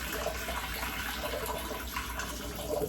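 Tap water running steadily into a kitchen sink while food is washed for breakfast, a continuous close splashing hiss with no voices.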